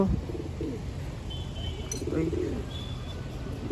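Pigeons in a loft cage coo softly, with a few brief chirps over a constant low background hum, recorded nearby.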